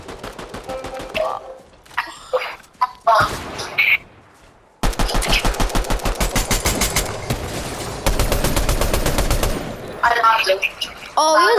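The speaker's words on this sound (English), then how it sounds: "Cause I see gunshots" Rapid bursts of automatic gunfire from the Fortnite video game crackle in dense, loud volleys, with a pause before a long sustained stretch of shots and a player talking in between.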